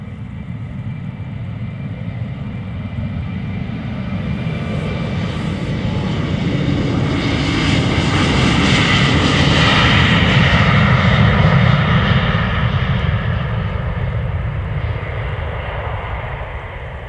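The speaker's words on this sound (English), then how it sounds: "German Airways flying on behalf of KLM, flight 1285 to Aalborg, Embraer 190." An Embraer 190 jet airliner departs Amsterdam Schiphol Airport, its engine roar building into a loud, broad rumble as it passes close by, then slowly fading over about seventeen seconds.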